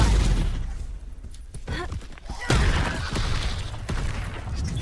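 Spell blasts from Hogwarts Legacy: a series of sharp magical impacts and explosive bursts, cracks and booms scattered across a few seconds with swelling crashes, loud and close amid combat noise.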